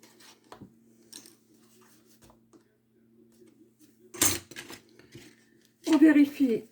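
Scissors cutting paper for a scrapbook album, a few short crisp snips spaced apart with a louder cutting burst near the end, close and clear over a quiet room with faint background noise; someone speaks French nearby.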